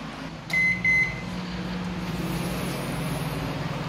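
Microwave oven heating a single meal: a steady low electric hum with a fan-like drone, preceded by two short high beeps as it starts, running evenly and close by.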